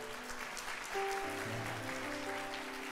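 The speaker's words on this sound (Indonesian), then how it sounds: "Mau gak kita sama-sama appreciate mereka dengan tepuk tangan?" A church congregation breaks into faint, distant applause for its pastors, with a steady patter of clapping under sustained music tones.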